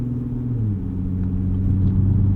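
Loud, steady low rumble of a 2013 Audi B8.5 S4 engine with traction control off, heard from inside the car as it drones and rises slightly in pitch with a brief shift in tone, no talking.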